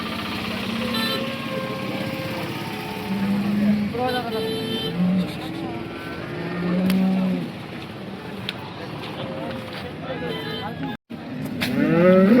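Jersey cows low repeatedly at a busy cattle market in Sangola, Maharashtra, the moos rising over constant chatter from nearby people and a vehicle engine passing in the background.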